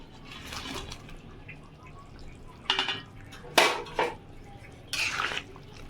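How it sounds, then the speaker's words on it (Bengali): Pieces of vetki fish slipped into a pot of simmering kalia curry with potatoes, making a few clattering spoon-and-pot knocks and wet splashes in short bursts over a low bubbling background. "এবার তার মধ্যে দিয়ে দেব মাছগুলো"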